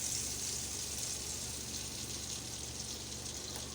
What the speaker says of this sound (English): I'll pour in my palm oil